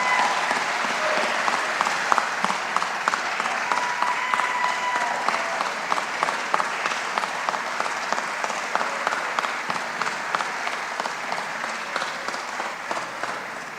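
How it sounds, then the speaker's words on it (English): A crowd at a government press event with cabinet secretaries applauds in steady, sustained clapping that slowly fades over about fourteen seconds, with no speech over it. "Can we get a round of applause for them?"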